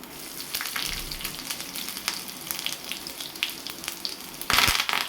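Mustard seeds, cumin and garlic crackle in hot oil for a tempering, a steady close sizzle dotted with sharp little pops, swelling into a louder burst of spluttering near the end.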